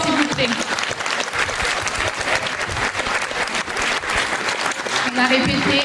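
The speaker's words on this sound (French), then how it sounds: "Vous pouvez les applaudir bien fort" Audience at the Miss Excellence Oise 2019 beauty pageant gala claps loudly and steadily after a performance, with a voice speaking over the ovation at the start and end.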